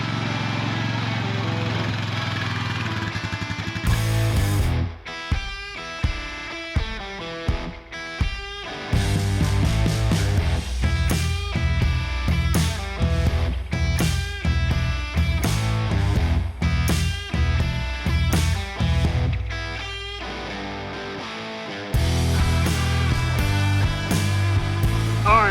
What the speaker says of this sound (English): let's hook the chisel plow back up, run this one more time